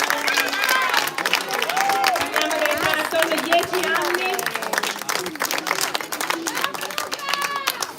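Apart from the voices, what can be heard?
audience applause for young boxers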